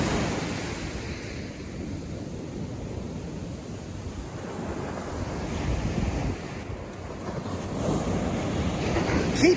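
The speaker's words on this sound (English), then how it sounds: "The waves are huge today." Large surf waves roll and crash steadily on a Florida beach at Ormond, a continuous broadband roar with gusty wind buffeting the microphone and swelling slightly louder toward the end.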